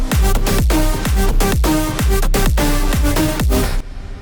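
Melodic drum and bass track in a vlog style, with punchy kicks and pitch-dropping bass hits in a steady fast rhythm under dense bright synths and hats, loud and continuous before cutting out near the end.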